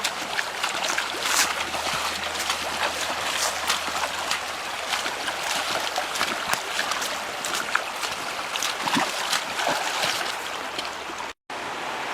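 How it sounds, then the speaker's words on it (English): Clear, shallow water of the Etowah River in North Georgia ripples steadily over a shallow section, a continuous close wash of babbling flow with no talk. "A nice ripple section."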